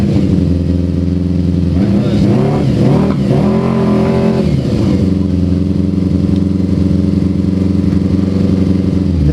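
Italian Benelli four-cylinder racing motorcycle engine revving hard in first gear toward 12,000 rpm, a loud, continuous high-pitched howl that rises and falls in pitch before holding steady, close by.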